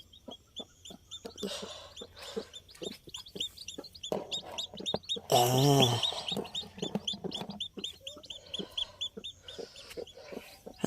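Chickens clucking and chicks peeping around a nest as the chicks are lifted down, with steady nearby clucks, a louder squawking burst in the middle and a voice speaking at times.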